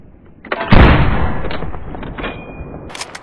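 A single loud K98k bolt-action rifle shot cracks and booms in Post Scriptum, its report rolling off into a long fading echo, followed by light mechanical clicks.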